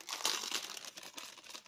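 Paper crinkling close by, a steady run of crisp rustles and crackles with a louder burst near the start, no voices.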